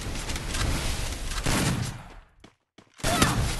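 Bursts of gunfire crackle in the Free Fire battle game, loud rapid volleys broken by a short silent gap before firing resumes.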